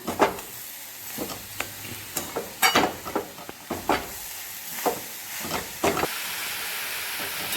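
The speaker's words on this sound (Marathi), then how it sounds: "आता ह्याला पण आपण साधारण दहा मिनटं याला छान असं परतून घेऊया" A sugar and grated coconut mixture for coconut barfi is sautéed in a pan, with a steady hiss of cooking and a series of distinct scraping stirs at uneven intervals, close by, with no talking.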